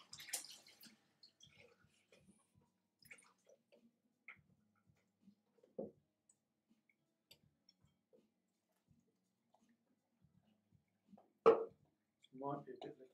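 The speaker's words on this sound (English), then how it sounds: "So I'm going to add in about 100 ml of cold water." About 100 ml of cold water is poured into a flour mixture in a home kitchen, heard as a short, fairly close splash and trickle near the end after a long stretch of quiet with small clicks.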